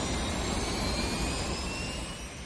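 Navy and Air Force military jet aircraft engines roar steadily during the Rolling Thunder air campaign over North Vietnam in 1965, a continuous distant wash of engine noise with no talk.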